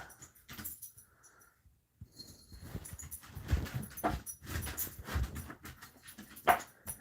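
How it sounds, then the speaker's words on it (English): Two dogs, one a four-month-old Yorkie and Jack Russell mix puppy, play nearby with soft whimpers, scuffles and small yips, fairly quiet and close, without talk. "Jasper is trying to get Squeaky to play, and Squeaky is not really sure that he wants to. That's all the noise y'all hear."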